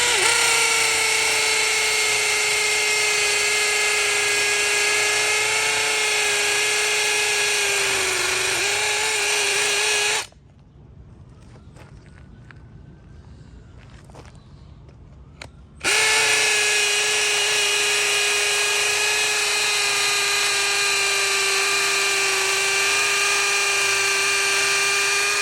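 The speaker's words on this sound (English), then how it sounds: "I'm going to drill straight through it" Ryobi 18V ONE+ HP brushless 1/2-inch hammer drill boring through a concrete block, a loud steady high whine running for about ten seconds, dropping out briefly, then resuming just as steady and loud.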